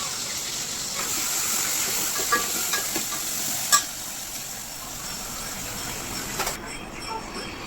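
Garlic sizzling in hot oil with a steady crackling hiss, close up, broken by a few sharp stirring clinks.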